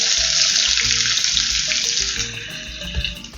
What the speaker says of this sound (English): So right now I'll be adding the onion